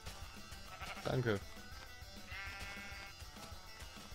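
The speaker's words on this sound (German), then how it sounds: "Schaf." A sheep in the Minecraft video game gives a short bleat, mid-loud, with someone talking around it.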